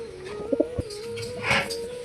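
A domestic pigeon in a home loft gives a few soft, throaty coos close by, with a steady low tone running through the short stretch and a couple of brief bumps of movement.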